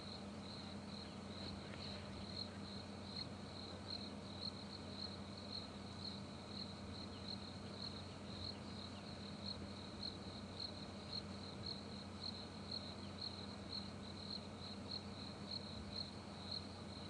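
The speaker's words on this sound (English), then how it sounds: "listen to the sounds of the bush, the crickets and the different birds" Crickets chirp in the African bush during an evening safari drive at Djuma and Arathusa, a dense, continuous high trill running evenly throughout under a faint wash of other night ambience.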